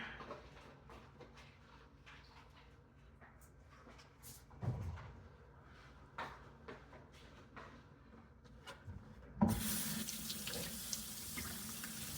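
A tap is turned on near the end and water gushes steadily into a sink, after a stretch of quiet clinks and kitchen handling noises.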